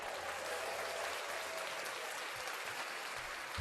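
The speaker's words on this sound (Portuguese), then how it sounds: "Merecia uma palmas aí, Léo." Faint, even applause from a gathering at an online photography meetup, a steady hiss of many hands clapping at low level throughout, with no talking.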